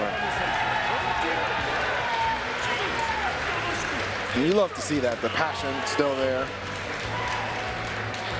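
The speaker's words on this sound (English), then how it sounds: "hear the crowd in the background" Crowd noise at a Granblue Fantasy Versus fighting game tournament, Combo Breaker 2023 Top 48, a steady wash of distant cheering and applause running under loud commentary throughout.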